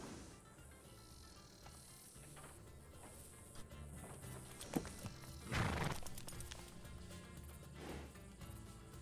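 A horse in the video game RedM neighs and its hooves clip-clop, with repeated whinnies over a steady background of game ambience.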